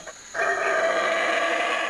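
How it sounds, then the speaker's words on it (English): A howler monkey gives a loud, sustained guttural howl with a droning, harmonic tone, starting after a short pause and carrying on unbroken. "These loudmouths howl to mark their territory and to intimidate rival troops."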